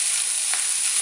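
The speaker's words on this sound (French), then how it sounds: "Je remue bien." Shrimp with garlic and onion fry in a pan for Provençal shrimp pasta, giving a brief, loud, steady hiss broken by a single soft scrape of a spoon, with no voices.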